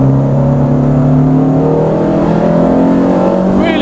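A Renault Sport Clio 172, tuned to around 198 bhp and about 900 kg, runs hard on a race track, its engine droning loud and steady at high revs with a gradual pitch climb. There is no talk over it.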